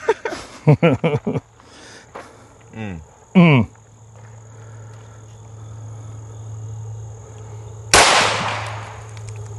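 Heckler & Koch pistol fired rapidly during a trigger reset drill at a range: a fast cluster of sharp shots early on, a couple of isolated reports after, then a louder blast near the end over a steady low hum.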